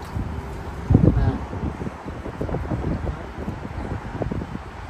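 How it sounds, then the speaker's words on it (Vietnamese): Wind gusts across a beach at Ocean City, Maryland, rumbling and buffeting the microphone in uneven bursts, strongest near the start, with faint voices in the background. "gió thổi tóc bay bay"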